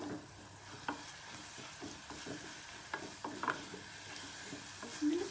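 An egg mixture sizzles in a pan while a utensil stirs it, leaving a soft steady fry beneath repeated scraping strokes and light clinks, fairly quiet and without talk.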